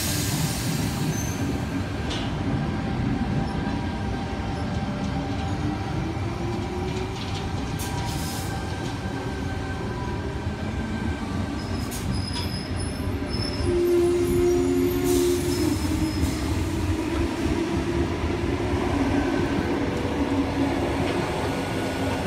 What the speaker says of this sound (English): Now departing platform 4, we have a Hurstville service running express to Hurstville.